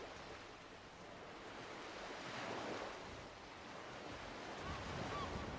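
Ocean waves in a fishing horror video game roll in as a steady, broad wash of surf, with a gentle swell in the middle and no one speaking.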